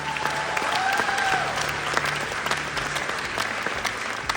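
Dense, steady audience applause at an event in Dagestan continues throughout, loud and close, with a faint whistle near the start and low music underneath.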